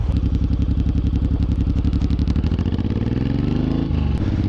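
A Suzuki M109R motorcycle engine runs loud and close with a steady pulsing rumble, the pitch shifting briefly near the end as the rider eases off and accelerates.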